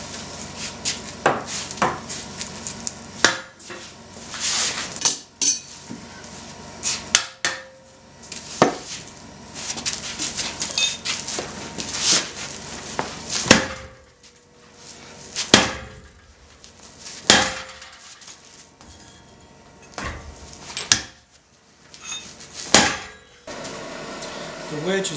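A twisted metal felling wedge hammered on an anvil during forging, sharp ringing blows repeated irregularly over a long stretch, close and loud, with some quieter tapping between strikes.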